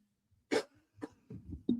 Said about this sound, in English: I'm trying to move the mic out of the way when I got a cough.